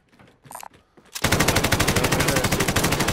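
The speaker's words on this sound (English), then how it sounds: "Shots fired." Rapid, loud automatic gunfire from a Call of Duty: Warzone match on Alcatraz, a sustained rattling burst of evenly spaced shots close by, preceded by a few softer isolated noises.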